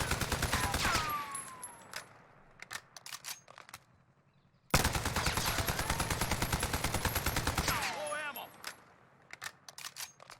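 AN94 rifle in Warzone fires in hyper burst mode: a quick opening volley, sparse separate shots, then a long dense run of rapid fire. Brief voices come in near the start and again toward the end.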